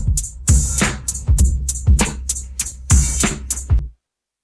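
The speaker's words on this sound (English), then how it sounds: "he's just used the drums from it off the dub version." Isolated drum break lifted from the dub version of a hip hop track, a loud looping pattern of punchy kicks and crisp snare hits, with no vocals.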